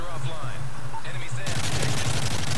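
Gunfire in Call of Duty Modern Warfare 3, starting with quieter game sounds and tones, then breaking into a loud, dense burst of rapid shots.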